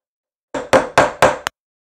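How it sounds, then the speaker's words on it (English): Four sharp hammer blows on metal wire in quick, even succession followed by a fifth shorter tap, close and loud against near silence. "I'm hammering the dickens out of this right now"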